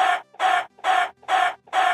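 Chicken clucking in the Minecraft video game, five short evenly spaced bok-like clucks in quick rhythmic succession, loud and close with no talking over them.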